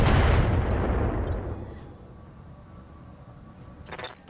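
Long-range missiles fire in the Battletech video game: a loud, dense burst of launches and impacts at the start that rolls off into a fading rumble, with a faint crackle near the end.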